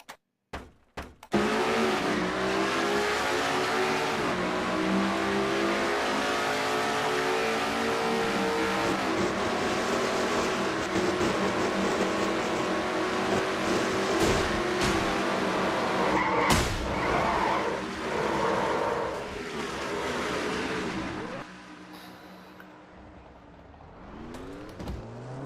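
Stock race cars in a NASCAR racing video game roar in a dense pack, engines revving and tyres skidding, loud and continuous, with sharp bursts and a brief drop near the end.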